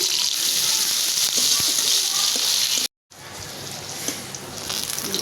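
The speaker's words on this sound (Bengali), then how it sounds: "তেলটা গরম হয়ে গেছে পেঁয়াজ দিয়ে দিলাম কাঁচামরিচ দিয়ে দিলাম" Onions and green chilies dropped into hot oil in a kadai, a loud, dense, close sizzle that cuts out briefly and then resumes slightly quieter.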